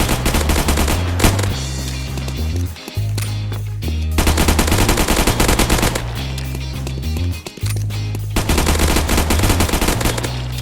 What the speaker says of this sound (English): Next is a pistol, the Glock 18C.